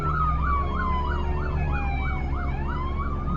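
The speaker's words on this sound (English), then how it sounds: "Somebody's summoned an ambulance." A city ambulance siren wails in fast rising-and-falling cycles, loud and close, its pitch sliding lower near the end as it passes by over low traffic rumble.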